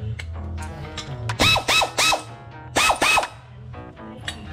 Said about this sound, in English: last time I was able to get it off with the ratchet